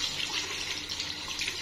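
Water gushes steadily from a mall sink faucet opened by lifting its lever, a bright, even hiss of running water close by with no voices.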